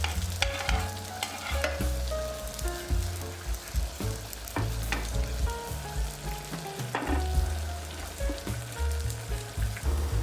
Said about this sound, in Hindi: अब थोड़ा बटर साइड से डाल लेते हैं।